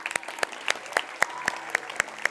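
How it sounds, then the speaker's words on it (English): Youth group clapping in unison, evenly spaced sharp claps about four per second, close and distinct against a quiet room. "Can you guys clap with me?"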